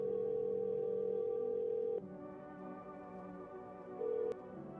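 A telephone in the game No I'm Not a Human, a steady dial tone cutting off into a quieter line hum, then a short tone returning briefly; no voices.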